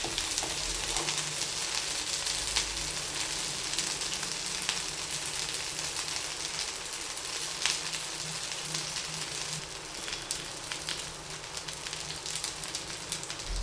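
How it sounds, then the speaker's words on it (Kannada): Fish frying in a pan on a low flame: a continuous, even crackling sizzle with small popping spatters throughout, close and alone without voices. "ಲೋ ಫ್ಲೇಮಲ್ಲಿ ಇಟ್ಕೊಂಡ್ರೆ ಫಿಶ್ಶು ಸಹ ಚೆನ್ನಾಗಿ ಫ್ರೈ ಆಗುತ್ತೆ"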